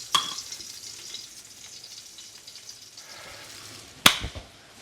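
Chicken cutlets frying in a pan make a quiet, even sizzle under faint kitchen noise, broken by a sharp clatter or pop near the end, with no talking.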